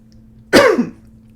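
A single rough throat-clearing cough, short and close, standing alone against a quiet background.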